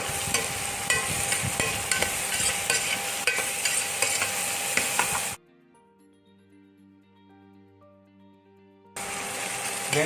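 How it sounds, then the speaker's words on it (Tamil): Onions with fennel seeds frying in a pan for country chicken gravy crackle and sizzle loudly with light stirring taps for about five seconds, then drop to near silence before the sizzle returns. "வெங்காயம் வந்து நல்லா ஃப்ரை ஆகணும்"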